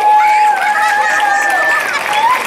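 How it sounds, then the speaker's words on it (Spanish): Festival crowd in a town square applauding a couple as they are introduced, a broad wash of clapping with crowd murmur and a sustained tone running beneath. "Recibimos con un fuerte aplauso a Laia Espías García."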